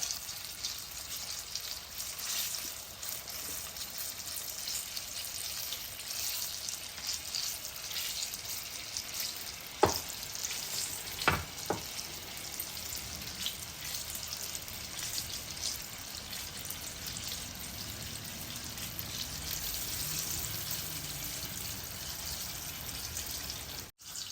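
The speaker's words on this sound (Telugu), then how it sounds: "మంచిగా వేగనివ్వాలి లోపల మన మిరపకాయ అవన్నీ వేగాలన్నమాట" Stuffed chilli bajji, uggani-filled green chillies in batter, frying in hot oil, giving a steady, even hiss and crackle throughout, broken by a few sharp pops near the middle.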